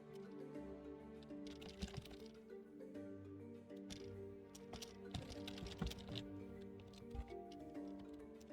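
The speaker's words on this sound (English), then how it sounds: "Why am I typing it out?" Typing on a computer keyboard, with irregular bursts of clicking keys at close range over a background of game music and ambience, no talking.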